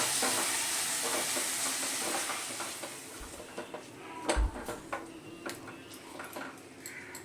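Spice masala sautéing with tomatoes in a pan for tilapia curry: an even sizzle that fades halfway, then scattered close clicks and scrapes of a stirring utensil.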